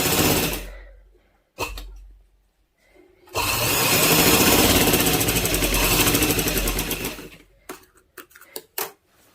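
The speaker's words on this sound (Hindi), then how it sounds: "मैं सारी सिलाई लगा के फिर आपको दिखाती हूँ" A sewing machine stitches a baby girl's frock in short starts, then a long steady whirring run of several seconds, followed by a few brief stop-start bursts, loud and close.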